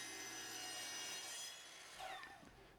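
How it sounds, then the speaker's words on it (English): A miter saw with a dull blade grinds through a board too wide for it, making a sustained, faint rasping whine that wavers and then tapers off near the end, with no voices. "this board is too wide for my miter saw to cut"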